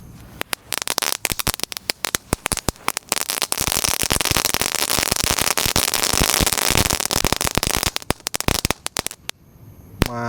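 Two packs of telur dino pretek firecrackers are lit together, first scattered sharp pops, then a dense, continuous crackling burst that fades back into sparse snaps, loud and close outdoors at night.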